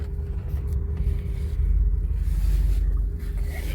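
A Pontiac Firebird Formula running a little rough on the move, a steady low engine rumble and road drone heard from inside the car, swelling slightly midway without any voices.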